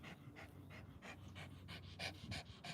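A dog pants heavily in quick, rhythmic bursts, close and faint, with no talking.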